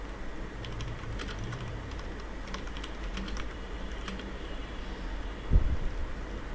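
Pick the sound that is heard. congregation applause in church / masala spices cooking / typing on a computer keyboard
typing on a computer keyboard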